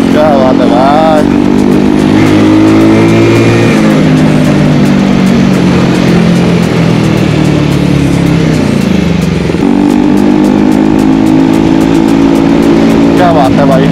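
A Bajaj Pulsar NS200 motorcycle rides along a road, its loud close engine droning steadily and shifting pitch as it eases off and picks up again, with wind rush throughout and a rider talking over it.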